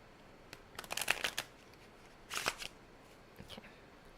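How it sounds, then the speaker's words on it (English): Riffle shuffling of a deck of playing cards during a calm close-up session: two main bursts of crisp, flapping card riffles with softer riffles after, close and fairly quiet, no talking. "And then I'm going to shuffle these cards."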